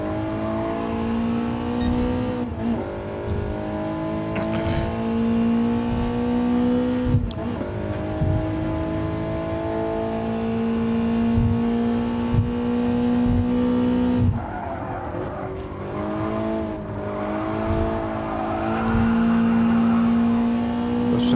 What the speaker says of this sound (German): Ein ganz neues Fahrzeug in diesem Spiel, der M3.